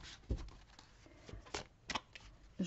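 Oracle cards are shuffled by hand for a reading, giving soft, close riffles and taps in irregular bursts at low volume.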